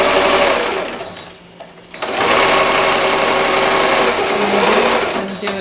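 A sewing machine stitches a wet bag in fast, buzzing bursts, pausing briefly before resuming for a back stitch, loud and close.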